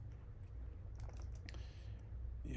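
Quiet, rapid clatter of keys tapped on a computer keyboard while coding, a short irregular burst of soft clicks over a low hum, no talking.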